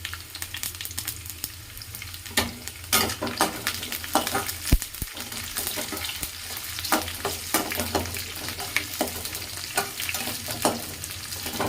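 Okra pieces and green chili frying in oil in a pan, a steady close sizzle with frequent scraping strokes of a spatula and one sharp knock partway through; no speech.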